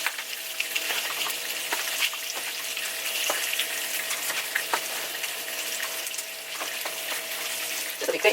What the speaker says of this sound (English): now we're just going to go ahead and put these in the deep fryer